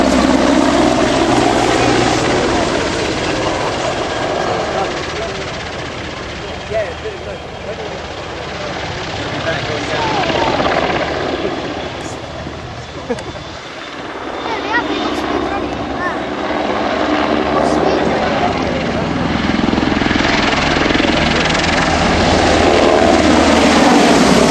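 EH101 Merlin helicopter flying at an air display, a continuous loud rotor and turbine roar swelling and fading as it passes, with a public-address voice talking over it.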